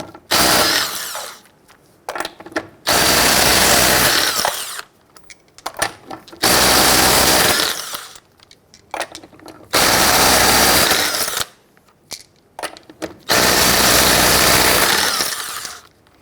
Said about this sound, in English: Using your 19mm socket, loosen and remove your lug nuts.